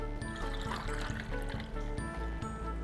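Honey lemongrass tea is poured over ice, a close, continuous trickling and splashing of liquid lasting a few seconds, with no voices.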